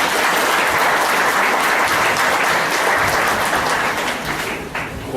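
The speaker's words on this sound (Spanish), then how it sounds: "un fuerte aplauso para todos los nacionales" Loud, dense audience applause in a lecture hall at an academic discussion on violence, sustained many-handed clapping close by that thins slightly near the end.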